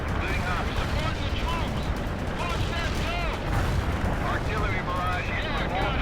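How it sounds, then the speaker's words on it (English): An artillery barrage in World in Conflict booms with dense, continuous explosions and gunfire, while whistling shells streak overhead and radio voices talk throughout. "Artillery barrage in full effect."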